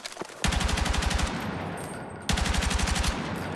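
Rapid automatic M277 rifle fire in a video game, two loud close bursts of evenly spaced shots with a brief pause between them.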